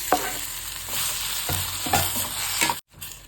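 Chopped onion and tomato fry with salt for a mushroom gravy: a steady close sizzle broken by spatula stirring scrapes, with a brief cut near the end and no talking.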